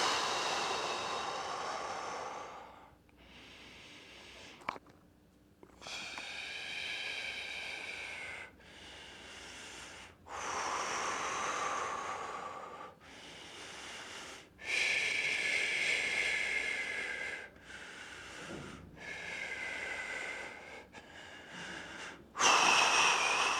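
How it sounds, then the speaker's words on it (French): Slow, deliberate breaths in and out during an abdominal plank hold, each breath lasting a few seconds with short silent gaps between, close and audible, with no talking. "On expire, on inspire."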